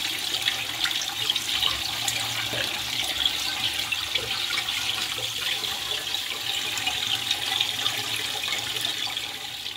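Running tap water pours steadily into a sink as catfish are washed clean, a continuous close hiss and splash with no pauses and no talking.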